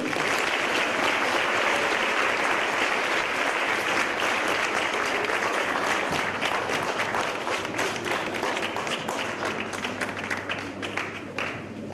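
Audience applause at a career guidance event, dense continuous clapping from a sizeable crowd lasting the whole twelve seconds, slowly thinning and easing off toward the end.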